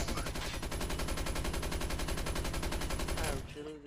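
Rapid automatic gunfire in Call of Duty, a dense unbroken stream of loud shots for over three seconds that then cuts off abruptly.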